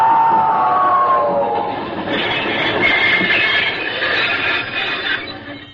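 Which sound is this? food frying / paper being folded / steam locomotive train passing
steam locomotive train passing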